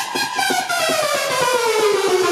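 A sustained synth lead played from a keyboard in Logic Pro X, its bright pitch gliding steadily downward over a repeating pulsing low pattern, loud and continuous with no voice.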